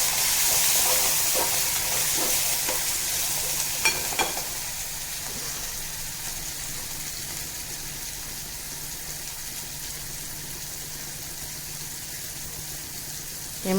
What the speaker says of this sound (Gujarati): હવે આપણે તેમાં ટમેટાં, લીલા મરચાં, કોથમીર અને લીમડો છે તે પણ નાખીશું. હવે આપણે તેને મિક્સ કરીશું.